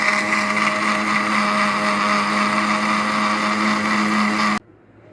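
An electric blender runs steadily at full speed while blending recipe ingredients including lemon, a loud, constant whirring drone lasting several seconds before cutting off abruptly into quiet.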